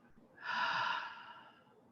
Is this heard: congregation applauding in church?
no